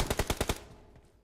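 A close burst of six rapid automatic gunshots in PUBG Mobile fires in even rhythm, then fades into a short decaying echo.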